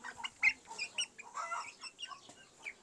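Young PB line chicks cheep and cluck in short, irregular bursts, close and fairly quiet, with no talking.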